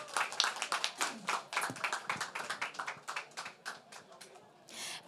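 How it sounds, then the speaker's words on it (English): Applause for a speaker at a youth land rights event, a small group clapping close to the microphone in quick, uneven bursts that gradually taper off. "please give a round of applause to Dana Lynn"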